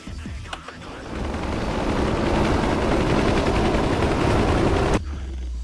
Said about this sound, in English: Is there an Apache just sitting here floating?